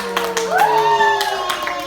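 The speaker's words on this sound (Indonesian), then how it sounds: "Tepuk tangan dulu dong kelompok 1." A student group clapping hands in a classroom, a few scattered claps rising over tonal voices and background chatter in a short, lively moment.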